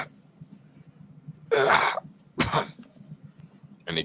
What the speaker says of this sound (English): And he coughs up a little blood.